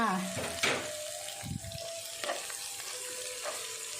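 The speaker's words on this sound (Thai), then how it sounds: "ผัดสามเกลือให้หอมเลยค่ะ" Sam kler paste of garlic, coriander root and pepper stir-fried in a hot pan, a steady close sizzle with scraping stirs and faint clinks throughout, no talking.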